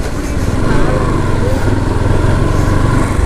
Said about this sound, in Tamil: ஸ்ட்ரீமை ஒட்டியே தான் வண்டி ஓட்டிகிட்டு போயிட்டுருக்கோம்.